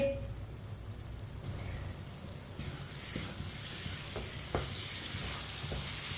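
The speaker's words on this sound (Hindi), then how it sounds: "इसी तरह चम्मच चलाते हुए ज़रूर पकाना है" A spoon stirs semolina halwa in a pan while it cooks, giving a steady soft scraping and sizzling that runs throughout with a few sharper scrapes, close and fairly quiet, with no talking.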